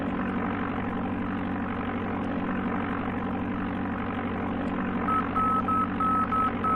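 Middle marker beacon tone in Flight Simulator II on the Amiga, a steady pulsing beep of short dashes entering near the end over a constant droning light-aircraft engine hum.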